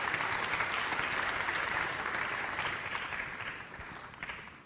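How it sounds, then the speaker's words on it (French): An audience at a regional awards ceremony applauds three prize winners, sustained even clapping that holds for several seconds before tapering slightly toward the end. "Quelques applaudissements pour nos 3 lauréats."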